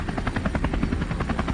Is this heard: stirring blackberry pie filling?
no